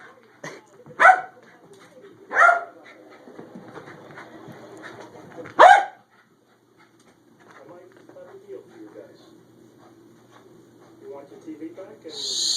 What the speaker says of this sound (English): Stupid dog. It's right there.